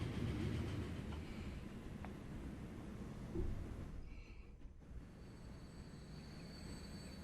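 Big Boy steam locomotive in a train simulation game rumbling along with a steady, low mechanical roar and faint rail clatter, with a brief hiss midway, heard at a distance and fairly quiet.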